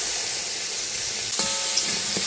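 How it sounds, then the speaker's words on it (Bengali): Oil sizzling in a pan with panch phoron spices, a steady, close hissing fry that carries on alone, with a brief clink partway through. "এই যে দেখো তেল, পাঁচফোড়ন দিয়ে দিয়েছি"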